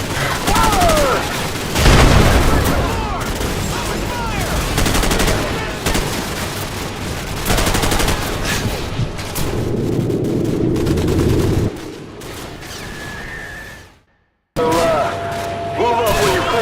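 Heavy Call of Duty Modern Warfare battle with rapid automatic gunfire bursts and booming shots, loud and nearly nonstop, dropping briefly to near silence before firing resumes, with shouted voices mixed in.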